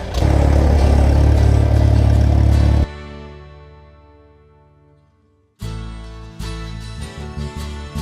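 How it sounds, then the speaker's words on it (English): A small airplane's four-cylinder engine runs loud and close, then cuts out and spins down to near silence before roaring back to a steady run. "before Adrian started up the engine and ran it for a while to check for leaks."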